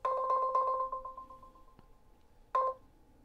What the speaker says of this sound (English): For an example, I'm going to press the call button.